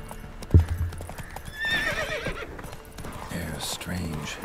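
A horse galloping in The Witcher 3: rhythmic clip-clop hoofbeats after a sharp thump, a high whinny partway through, and ongoing game ambience underneath.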